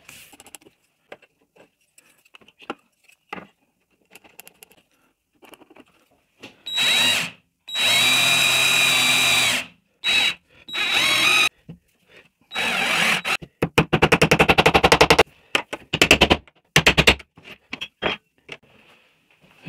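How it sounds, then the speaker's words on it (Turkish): A power drill driving eight screws into the table of a Scheppach HS105 saw-router bench, heard as several whirring bursts of varying length separated by quiet gaps and small handling clatter. "Şu şekilde atarsam şöyle 8 tane vida atacağım arkadaşlar."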